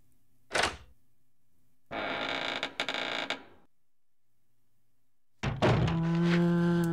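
A door in a Resident Evil Code Veronica safe room: a dull thunk, a rough grinding creak as it swings open, then a heavy clunk with a low resonant hum, close and isolated.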